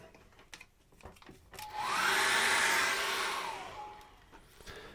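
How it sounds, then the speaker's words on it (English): A hairdryer switches on, whirs at a steady loud pitch for about two seconds while drying a wet acrylic landscape painting, then winds down, with quieter handling noise before and after. "I'm going to dry that off with a hairdryer now"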